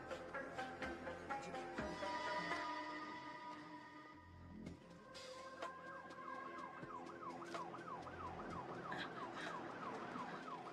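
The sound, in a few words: ambulance siren in a Hindi dubbed action movie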